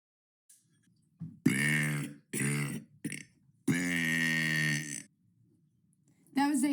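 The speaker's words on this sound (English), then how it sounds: "That's day 15 of burping" Several voiced burps in a row, loud and close: two long rumbling belches, a short one, then a drawn-out deep burp, with another starting at the end; brief silences between them and no talking.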